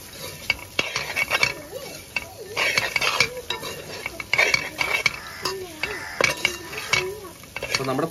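A spoon stirs Kerala-style pork fry in a pan, giving repeated scraping and clinking strokes in an irregular rhythm over a faint sizzle, close and moderately loud.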